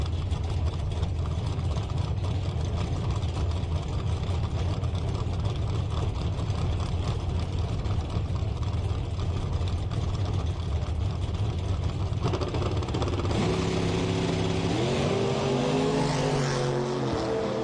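A drag racing car running down the track at a bracket race, a loud sustained engine roar across the whole stretch, with a rising, shifting whine toward the end.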